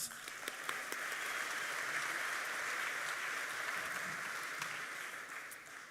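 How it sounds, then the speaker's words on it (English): Audience at the 2023 NZ Hi-Tech Awards ceremony gives a sustained round of applause as a presenter walks on stage, dense, even clapping from a large crowd that holds steady and then slowly tapers. "Can I have a round of applause as he joins us on stage"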